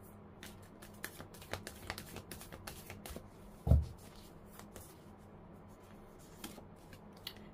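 Tarot cards being shuffled and drawn in a quiet room: soft, scattered riffling ticks and taps, with one dull thump midway.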